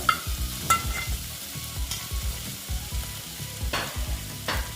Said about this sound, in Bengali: মশলাটা প্রায় অনেকটাই ভাজা হয়ে যাচ্ছে হয়ে গেছে তেলও অনেকটা ছেড়ে দিয়েছে এখন আমি আলুগুলো দিয়ে দিচ্ছি